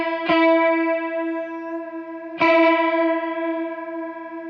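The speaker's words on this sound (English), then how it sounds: "right there I've got a bit of a chorus sound dialed in" Two sustained electric guitar chords ring out one after another, each struck cleanly and left to decay, colored by a shimmering chorus modulation effect in a worship guitar tone.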